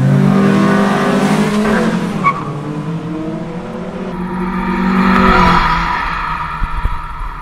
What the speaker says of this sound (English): It has a really good induction noise, which I love good.